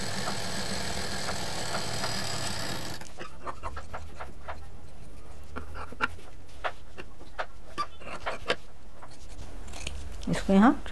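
Scissors snip off the extra fabric from a triangular shape on a fabric waist mobile case, giving a series of close, crisp cuts after a few seconds of background hiss.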